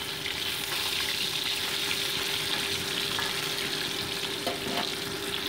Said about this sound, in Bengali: একে একে মাছগুলো কিন্তু আমি ভেজে নিচ্ছি।